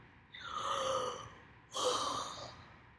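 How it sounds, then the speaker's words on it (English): A yawn in an animated story about a young monkey digging for dinosaurs: two drawn-out, breathy vocal swells follow one after the other, close and fairly loud, with no talking. "George yawned."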